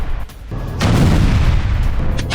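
IDF demolition blasts tear through Hamas tunnels in Gaza. A heavy explosion rolls into a long, loud, sustained rumble, with a sharper burst near the end and no voices.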